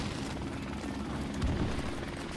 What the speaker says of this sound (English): Oh, do they have a helicopter?